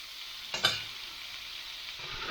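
Duck breasts basting in thyme- and garlic-infused fat in a pan, a steady close sizzle with a couple of brief louder spatters early on, no talking.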